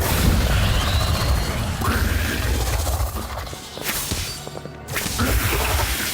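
Fiendfyre spell effect in the Harry Potter: Magic Awakened video game: a loud, roaring rush of fiery whooshes and cracking bursts, sustained and close, dipping briefly before surging again.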